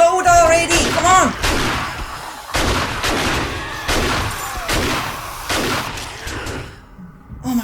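Gunfire in the zombie survival game 7 Days to Die, a string of loud heavy booming shots spaced about a second apart with rumbling tails, while someone shouts excitedly over the first moments.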